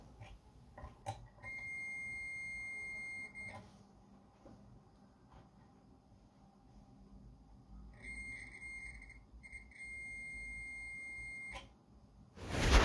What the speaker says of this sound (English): I turned the knob to the continuity, and I'm going to test the continuity.